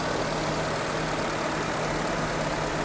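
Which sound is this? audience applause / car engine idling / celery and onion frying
car engine idling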